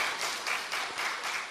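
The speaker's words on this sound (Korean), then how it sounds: "옆에서 지금 누나들이 굉장히 박수 쳐주고 있습니다" Steady, enthusiastic clapping from a few young women seated beside the platform during a Sunday afternoon church service, a dense patter of hand claps with soft swells, fairly close and without talk.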